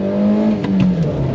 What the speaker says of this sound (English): Even their ordinary engines, like the D16 and this HR-V, sound great.